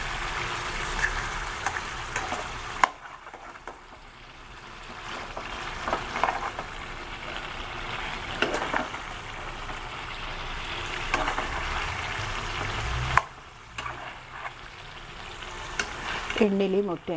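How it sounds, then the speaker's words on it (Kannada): Eggs and pepper chicken fry in hot oil in a home kitchen, a steady sizzle broken by stirring and scraping, with a brief quieter pause and talk over the cooking. "ಎಣ್ಣೆಲಿ ಮೊಟ್ಟೆ ಚೆನ್ನಾಗಿ ಬೇಯುತ್ತೆ."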